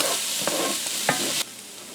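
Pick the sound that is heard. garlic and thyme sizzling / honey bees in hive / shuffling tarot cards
garlic and thyme sizzling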